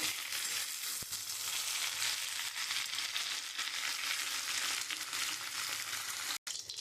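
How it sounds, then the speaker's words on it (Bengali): Cumin seeds and bay leaves tempering in oil left over from frying pointed gourd produce a loud, continuous hiss and crackle from start to finish, with one brief break near the end. "আমি পটল ভাজার তেলের মধ্যে জিরা তেজপাতা ফোড়ন দিয়ে দিচ্ছি"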